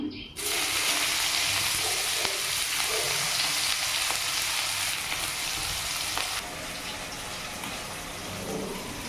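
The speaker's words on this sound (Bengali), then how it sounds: "আর দেখো এখানে একটু পেঁয়াজ ফোড়ন দিলাম" Onion hits hot oil for tempering and erupts into a loud, dense sizzle right away. The hiss stays strong, then eases a little but keeps frying steadily to the end.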